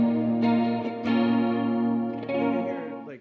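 An electric guitar rings out sustained chords with a shimmering, wavering chorus effect, strummed a few times and left to ring.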